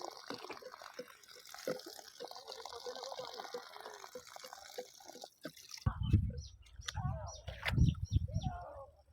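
Water trickles steadily from the pipe of a homemade pump that runs without electricity, a soft continuous flow, then uneven dripping and splashing near the end.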